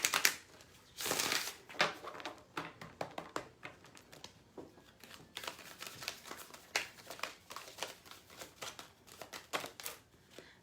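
Large, oversized tarot cards being shuffled by hand, giving irregular papery riffles, slaps and soft taps in uneven bursts at close range and low volume.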